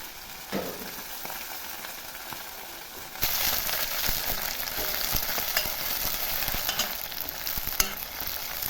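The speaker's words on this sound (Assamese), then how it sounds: "এতিয়া মই গৰম তেলত তেজপাত কেইডাল দি লৈছোঁ আৰু গাৰ্লিক চিপছ কেইটা দি লৈছোঁ আৰু এনেকৈ 1 মিনিটমান ভাজি লৈছোঁ।" Bay leaves and garlic chips fry in hot oil for a Manipuri snail dish, giving a steady crackling sizzle with stirring. The sizzle swells louder partway through and carries on without talk.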